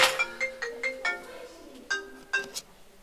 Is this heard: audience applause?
no